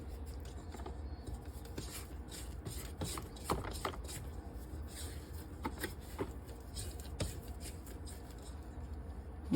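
A mixing bowl of bread roll dough is scraped down, soft rasping scrapes and rubs repeating irregularly, close and quiet over a low background hum.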